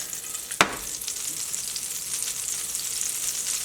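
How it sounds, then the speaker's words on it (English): Butter melting in a hot pan on a stovetop burner, a steady soft sizzle after a brief sharp hiss at the start, continuing gently with no voices. "I'll melt that butter first."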